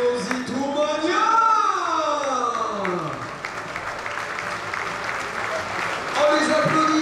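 Sustained applause from Aviron Bayonnais rugby fans at a squad presentation event, a broad wash of clapping under an announcer speaking loudly through the PA system throughout.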